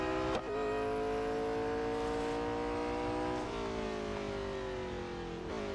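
A race car engine in the Real Racing 3 mobile game holds a steady high drone, its pitch sliding down and then up again as the car shifts, loud and continuous with no talk.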